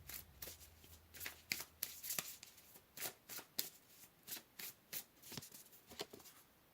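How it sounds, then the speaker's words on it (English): Tarot cards are shuffled and pulled in a string of quick, soft riffling bursts, close and quiet, with brief pauses between each burst. "Let's pull another card here."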